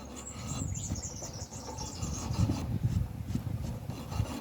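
Hand rasp filed across a soapstone sculpture, a steady close scraping rasp in continuous strokes with no talking.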